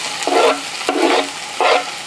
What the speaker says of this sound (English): I'm adding onion to a frying pan.